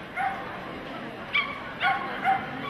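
Small dogs yipping in short, sharp bursts at an agility world championship in an indoor arena, a few quick barks spaced over a couple of seconds amid a commentator's voice and crowd ambience.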